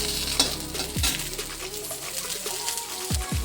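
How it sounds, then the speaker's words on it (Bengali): Oil crackles and sizzles steadily as pointed gourd and okra fry in a wok, with a few clattering stirs near the start and end. "আমি একটু পটল আর ভেন্ডি ভেজে নেব কড়াইয়ে"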